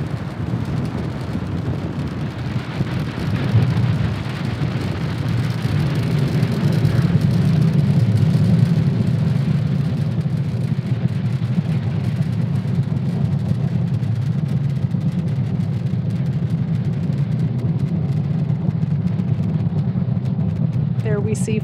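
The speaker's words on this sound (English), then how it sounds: "Falcon 9 has successfully lifted off from Cape Canaveral Space Force Station, carrying our stack of Starlink satellites into orbit." A SpaceX Falcon 9 rocket lifting off from Cape Canaveral Space Force Station carrying Starlink satellites, a long, deep, continuous rumbling roar that swells and holds steady, heavy and crackling throughout.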